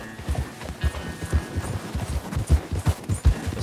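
Horse hooves in the video game Red Dead Redemption 2, a rapid, rhythmic clip-clop of a galloping horse, close and steady throughout with no talk.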